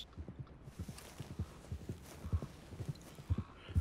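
A horse in the video game Red Dead Redemption 2 walks at an unhurried pace, its hooves making soft, even clip-clops at a distance with no other sound over them.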